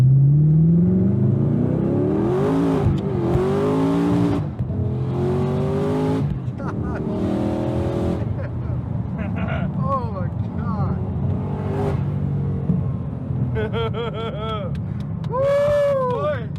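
A powerful 1,000 bhp Ford GT supercar engine revs and roars repeatedly, climbing and dropping in pitch, with voices talking and shouting over it.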